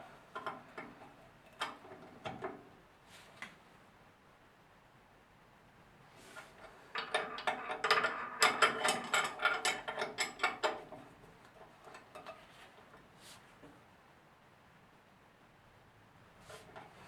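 Torque wrench ratcheting as cylinder head bolts on a Honda engine are tightened in a diagonal sequence, a run of quiet mechanical clicks swelling into a louder, denser burst of ratchet ticks midway, then tapering off.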